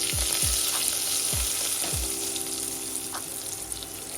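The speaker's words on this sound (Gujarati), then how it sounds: "તેલ આવી ગયું છે, તેમાં જીરું ઉમેરીશું, હિંગ નાખીશું, ત્યારબાદ ભરેલા રીંગણા અને બટેટા ઉમેરીશું।" Stuffed eggplant and potatoes dropped into hot oil with cumin and asafoetida, a loud steady sizzle with a few low thuds as pieces go in early on, close up.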